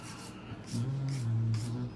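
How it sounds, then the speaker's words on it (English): A hand nail file rubs in circular strokes across a long coffin-shaped nail, a soft, close rasping that swells and fades in short, repeated passes. "I'm going circular with the hand filer."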